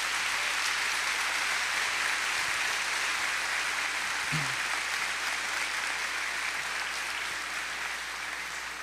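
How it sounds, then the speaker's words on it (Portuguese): Church congregation applauding as its team of pastors and leaders walks in, a steady, dense wash of clapping from a large crowd that holds evenly for the whole stretch, with no talk over it. "uma salva de palmas para eles."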